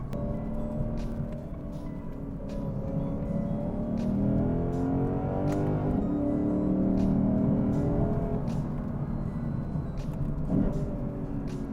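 Lexus IS 500 F Sport V8 sedan, 2024, revving hard on a road with a sharp hairpin, a loud continuous engine roar rising and falling in pitch through the gears, heard close from inside the car.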